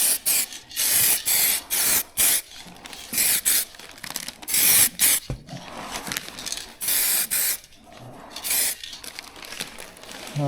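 Spray paint can coating drag bike parts, repeated short bursts of loud hissing spray close by, separated by brief pauses and quieter handling noises.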